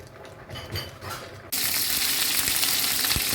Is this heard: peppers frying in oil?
yes